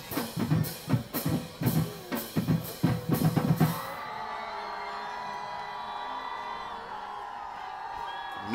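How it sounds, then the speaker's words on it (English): Home crowd at a Kennedy High versus Rosemont high school football game, cheering and whooping in rhythmic bursts for about four seconds, then fading to a steady murmur of distant crowd noise. "Home crowd coming alive, wanting more defense."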